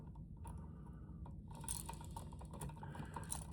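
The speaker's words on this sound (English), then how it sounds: "And put that other screw in." Quiet ratcheting clicks and small mechanical scrapes sound close by as a screw is driven in to mount a TV outlet, irregular and faint with short pauses between turns.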